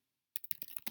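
Keys clatter on a computer keyboard in a quick, uneven burst of clicks that starts after a short silence and carries on steadily to the end.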